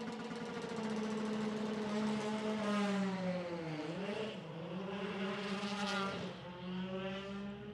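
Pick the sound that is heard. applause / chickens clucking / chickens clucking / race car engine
race car engine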